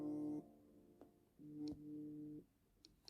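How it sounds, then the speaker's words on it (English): An alarm sounding indoors, a steady electronic tone in two long bursts separated by a short gap, fairly loud and alone, with a few faint clicks. "that was my alarm."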